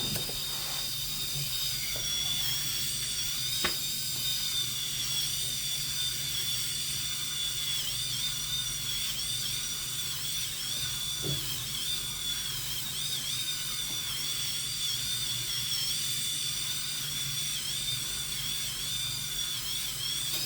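A Pitbull Silver Pro SX5 electric head shaver runs against the back of a head, giving a steady, close motor whine with a faint rough rasp of cut stubble throughout and no talking.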